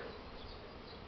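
Bees fly around a hive in spring, a dense continuous buzzing hum that fills the whole moment, steady and close with no voices.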